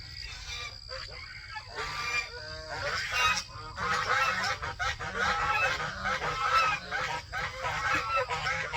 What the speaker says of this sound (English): This is what living on a bird ranch is like. Turkeys and geese